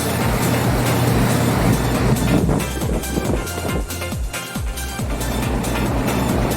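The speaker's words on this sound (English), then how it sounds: "We got some fans blowing on it." Electric fans blow on a freshly washed rug hanging up to dry. The airflow makes a loud, constant roaring whoosh that continues without a break.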